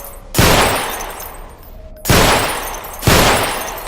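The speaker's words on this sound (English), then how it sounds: "Right, nice shooting." Three loud, sharp sidearm pistol shots fired at a shooting range in the video game Underhell, spaced irregularly, each with a short decaying echo.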